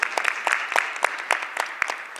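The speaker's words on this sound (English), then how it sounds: "You can clap, it's good." Scattered applause at a Camden City school advisory board meeting, a few separate hands clapping in irregular bursts, fairly close and fading quickly.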